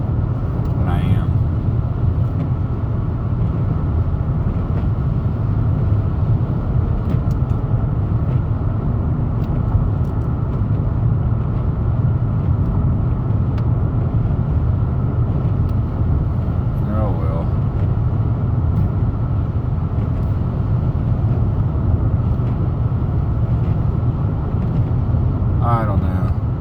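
Steady in-car road rumble of a car in motion, droning low and continuous throughout with faint intermittent squeaks and soft background noise.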